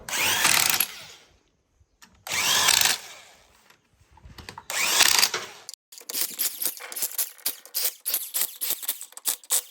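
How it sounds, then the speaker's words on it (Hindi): A power wrench tightens the oil sump bolts on a Maruti BS6 engine, firing three loud, sustained whirring bursts, then a quicker run of sharp ratcheting clicks and short buzzes. "with the help of power wrench से हम इसको टाइट"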